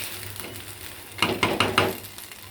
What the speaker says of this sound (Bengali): এমন করে ভাজতে হবে